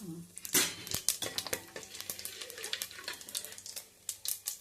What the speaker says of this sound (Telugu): లవంగాలు, దాల్చిన చెక్క, యాలుక్కాయలు మొత్తం వేసేస్తున్నాను.